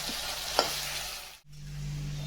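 Chicken curry cooking in a pot over a wood-fired stove, a soft steady hiss of simmering and frying with one brief scrape, a short silent gap, then the hiss resumes with a low hum.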